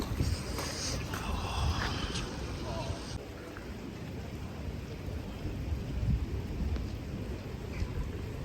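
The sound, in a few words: rain in Amsterdam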